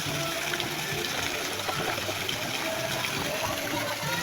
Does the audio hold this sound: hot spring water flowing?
yes